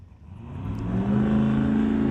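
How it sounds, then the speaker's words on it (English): A Pro Modified Mustang drag race car launching down the strip at a test session, its engine rising from a low rumble to a loud, sustained roar as it accelerates away. "So there goes the Mustang down."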